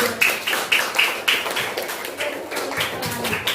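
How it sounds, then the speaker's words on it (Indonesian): A group of schoolchildren in a classroom clap together on cue, giving a brief burst of fairly close hand claps with an uneven patter that holds steady for a few seconds. "Tepuk tangan dulu dong."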